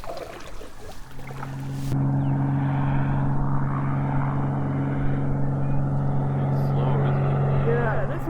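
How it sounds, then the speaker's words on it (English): Seaplane flying overhead on a calm evening over water, a steady droning propeller hum that swells in after a couple of seconds and holds loud and close, with people talking beneath it. "this one's a seaplane, this one, I think."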